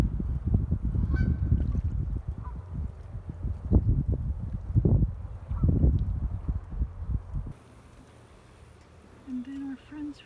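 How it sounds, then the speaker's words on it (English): Geese and ducks by the water honk in loud, irregular close calls over wind noise, then fade to quiet with a few faint calls at the end. "I hear the ducks."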